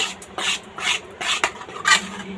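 Malpua batter made with semolina and toasted fennel seeds being mixed in a bowl, soft wet swishing strokes in a steady rhythm of about four passes, close and with no talk.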